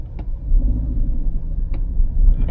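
A Suzuki Jimny GLX 5-door rolls through city traffic, a low steady engine rumble heard from inside the cabin, with a few faint clicks over the muffled drone.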